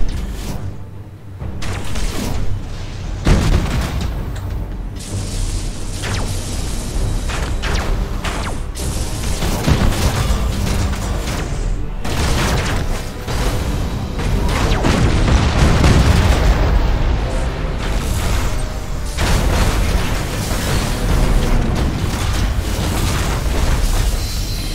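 Warship guns fire in a space battle in Battlefleet Gothic: Armada 2, a dense, loud barrage of booms and blasts rolling almost continuously, layered with rumbling mechanical noise and no clear pauses.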